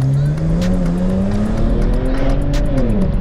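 Tuned BMW 335i with an N54 engine accelerating hard on a dry road, its engine note climbing steadily and loud inside the cabin, with brief squeals of tires losing grip.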